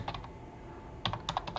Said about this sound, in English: what I'm going to do is type in Ehlers-Danlos